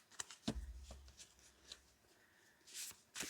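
Playing cards are shuffled by hand in a few soft riffling bursts with light rustles between them, close and quiet.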